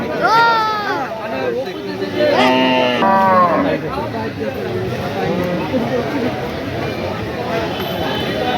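Cattle mooing at a cow market in Rajbari, several loud drawn-out moos early on, then a busy crowd murmur with people talking throughout.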